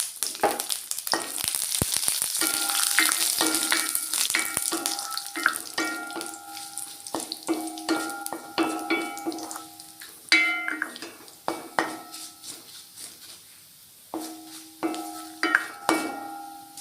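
Dried red chillies and curry leaves frying in hot oil after mustard seeds for a dry netholi chammanthi, a steady close crackling sizzle with bursts of spluttering and intermittent clinks of a utensil against the pan.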